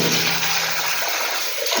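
Cold water runs from a household tap in a steady, close rush that fills the short moment alone, with no voices.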